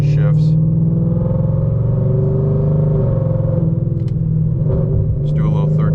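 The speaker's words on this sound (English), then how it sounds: "We'll roll into it, show you how fast this transmission shifts." Whipple supercharged 2024 Mustang GT with track exhaust, in race car mode, rolls into a third-gear pull with a loud, deep, continuous engine drone close to the microphone, with brief voice fragments over it.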